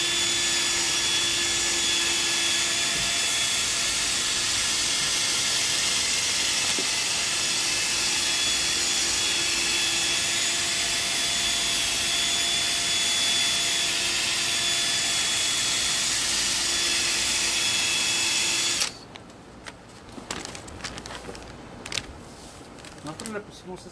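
A drill with a polishing disc whirs steadily against a plastic car headlight for a long stretch with a high, even whine, then cuts off abruptly, leaving quieter scraping and handling noises.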